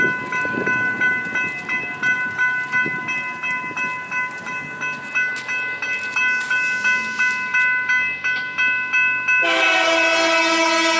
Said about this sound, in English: we got the BNSF coming